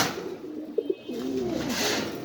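Afsan Budapest fancy pigeons, a Hungarian breed, give a soft rolling coo close by in a quiet loft, with a couple of short wing or foot noises just before it.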